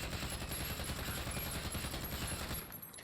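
Sustained automatic gunfire from a Warzone firearm fitted with a Commando foregrip during a recoil test, a dense continuous rattle of rapid shots for nearly the whole stretch before tailing off at the end.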